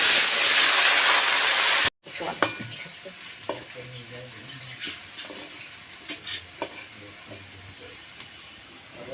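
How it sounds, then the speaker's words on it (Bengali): Potatoes frying in oil in a wok: a loud, dense sizzle for about two seconds, then a brief cut to quieter frying with scattered scraping and clinking from stirring. "আলুটাও ভিন্ন করে ভেজে নেব।"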